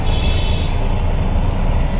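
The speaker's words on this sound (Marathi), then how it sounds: "आता एवढी ट्रॅफिक आहे आणि एवढा आवाज आहे" Busy street traffic in Nashik gives a loud, dense rumble of trucks, cars and buses, a continuous close roar of engines without pause.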